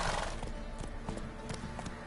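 Roach the horse trots in Witcher 3, giving a steady clip-clop of hooves, close and fairly loud, with a brief whinny-like tone near the start.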